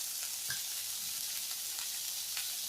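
Tomato and white salt sautéing with green onion on a medium flame for spinach soup, a faint, even sizzle with a couple of light spoon taps, quiet and steady.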